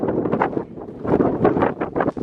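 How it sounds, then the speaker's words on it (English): Gusty wind roars and buffets steadily outdoors, a rough, rumbling rush that surges and eases without a break. "A little windy"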